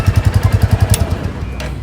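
A Royal Enfield Classic 350 motorcycle in Halcyon Green with alloy wheels idles with a loud, steady thumping beat close by, the pulses fading into a rougher rumble near the end.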